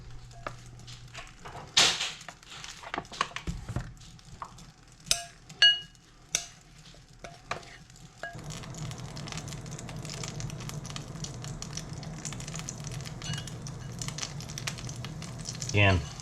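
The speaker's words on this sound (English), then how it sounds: "So that's what I'll be frying the fish up in." Fish frying in bear fat over a campfire: a soft, continuous sizzle that grows steadier and louder in the second half, with scattered clicks, clinks and some speech early on.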